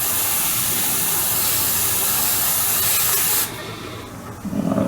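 Spray painting a Stug III Ausf G scale model: a continuous loud aerosol hiss that stops abruptly after about three and a half seconds, leaving quieter background noise.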